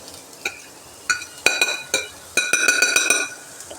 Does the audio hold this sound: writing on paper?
no